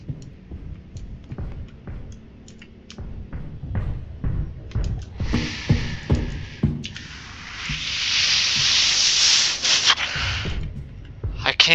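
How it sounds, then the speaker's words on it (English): Squelchy, soft footsteps in the horror video game Monstrum: a run of dull, rhythmic thuds, then a long stretch of rough, hissing rubbing noise, fairly close. "Oh god, that stepping. Sounds like you're stepping on pudding."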